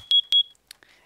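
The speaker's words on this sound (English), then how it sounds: "you can hear that the fire alarm is going off" A fire alarm in a Minecraft furniture mod gives two loud, close, high-pitched electronic beeps in quick succession, followed by softer clicks.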